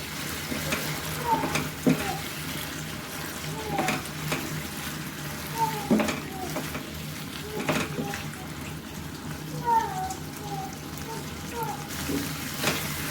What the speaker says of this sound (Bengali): চিংড়ি মাছটা দিয়ে আবার কষিয়ে নেব।